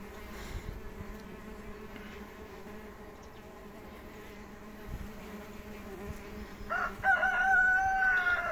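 Osmia cornuta mason bees buzz at a nesting hive of tubes: a continuous close insect hum with individual bees droning past, rising louder near the end, and a rooster crows in the background.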